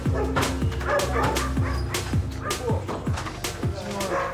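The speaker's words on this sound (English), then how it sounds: "the 6 dogs protecting the property are not helping." Several dogs guarding a property in Belize bark in repeated, overlapping bursts with yips and whines, loud and close, some of the calls crowding each other at a steady rapid pace.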